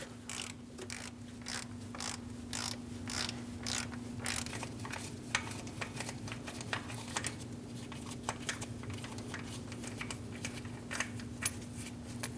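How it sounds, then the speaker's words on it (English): A 13mm socket on a ratchet loosens the idler pulley bolt on a 2011-2026 Dodge Durango, giving steady rapid clicking throughout at moderate level over a constant low engine-bay hum, with no talk. "Using a 13mm socket, we're going to remove the bolt for our idler pulley."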